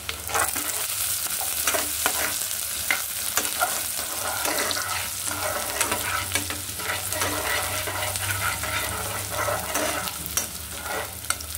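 Onion frying in oil with cardamom, cinnamon, black pepper, cloves and bay leaf until crisp and brown, a steady loud sizzle with frequent scraping stirs throughout, no voices.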